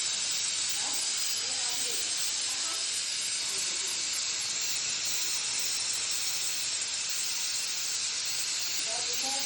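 A pressure cooker on the stove vents steam in a loud, continuous hiss that holds steady for the whole stretch without a break.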